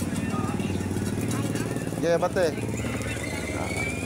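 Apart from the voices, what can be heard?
motorcycle nearby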